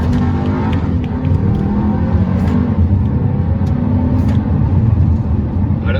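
A 2019 Volkswagen Arteon SE with a 4-cylinder turbo engine accelerating on the road, a steady, fairly loud engine drone mixed with road and tire noise, heard from inside the cabin with no talk.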